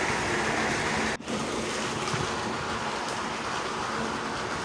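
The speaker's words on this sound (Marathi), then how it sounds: "हे लांबच्या वेरीमधलं पाणी येतं आहे" Water rushes steadily through a pipe into a tanker, a continuous broadband hiss and gush filling the whole clip with one brief dip in the flow.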